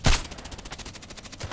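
A DT SRS mk.2 rifle fires in the video game Contract Wars. One sharp, loud shot comes at the start, followed by a fading, fluttering rattle as the report dies away.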